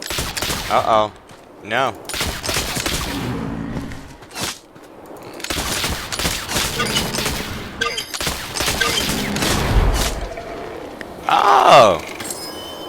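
Gunshots from bison hunting in the video game Oregon Trail, with several sharp reports spread across the clip, mixed with game sounds and a speaking voice.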